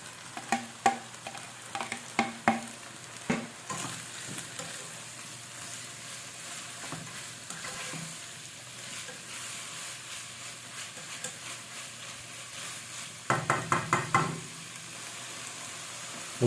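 Small pieces of chicken frying in a pan, a steady close sizzle with scraping stirs at the start and a louder burst of stirring near the end.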